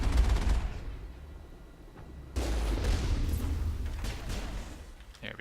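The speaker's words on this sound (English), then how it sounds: "2 pistol rounds from whoever that was" Pistol fire in the video game Mass Effect, a burst of sharp shots at the start and another sudden loud blast midway, set against a dense rumbling combat background.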